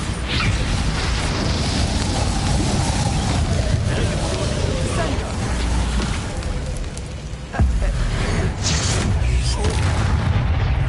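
The Bombarda blasting spell explodes in the video game Hogwarts Legacy, a dense, roaring blast with a rumbling low end over a continuous noisy bed, with a sharp crack partway through.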